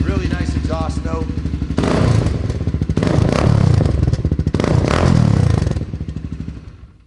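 A 2015 Honda CRF250L dirt bike engine revs hard in several loud bursts, the exhaust barking and rising, then dropping back toward idle; someone may speak briefly at the start.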